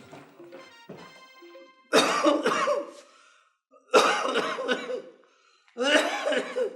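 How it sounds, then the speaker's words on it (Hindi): Harsh, loud coughing fits come in three bursts, with quieter throat noises and pauses between them. "क्या सुरीली खांसी है तुम्हारी"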